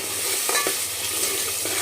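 Close stirring scrapes over a continuous oily sizzle as a thick masala paste for mutton curry fries on low heat, with a couple of distinct spoon strokes.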